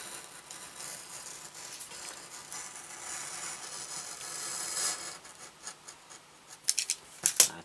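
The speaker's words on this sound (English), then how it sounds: "you just want to cut a narrow strip" Scissors snip through a narrow strip of material for a guitar tuning peg repair, soft close cutting and rubbing noises that end in a few sharper clicks, heard alone.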